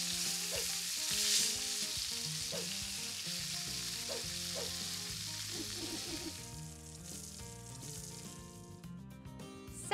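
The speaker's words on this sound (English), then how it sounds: "So I am gonna cook this chicken for probably 3 or 4 minutes on the first side" Chicken pieces frying in a hot skillet, a steady close crackling sizzle that runs throughout at moderate level, with occasional light pops.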